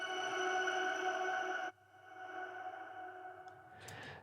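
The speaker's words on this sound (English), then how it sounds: "this little intro sparkle sound" Sparkly intro sound from the start of an electronic song: a bright, shimmering sustained tone that cuts off abruptly, leaves a softer reverb tail, then ends in a brief airy noise swell.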